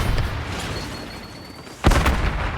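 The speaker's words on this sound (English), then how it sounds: "Impact grenades are pretty good." A single heavy impact grenade blast booms in Warzone, the battle royale game, sudden and loud, landing partway through over a steady bed of game noise with no speech.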